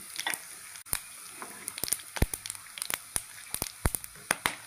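Garam masala crackles and sizzles in hot desi ghee, with sharp irregular pops and spits over a steady low frying hiss, close by.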